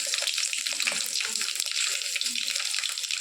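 Mustard seeds and green chillies crackle in hot oil for a dhokla tempering, a steady, loud, dense sizzle with faint popping throughout.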